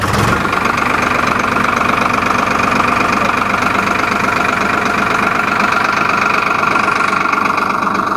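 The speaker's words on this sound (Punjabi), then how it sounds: "ਮਾੜਾ ਸਟਾਰਟ ਕਰਕੇ ਦਿਖਾ ਦੇ ਟਰੈਕਟਰ" A heavy diesel Farmtrac 60 tractor engine catches and settles into a loud, steady knocking idle that runs on without a break.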